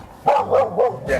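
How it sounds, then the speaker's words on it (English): A dog barks four times in a quick, fairly evenly spaced series on a Cornish vegetable grower's property. The barks are loud and close, with no one talking. "Sorry about the dog."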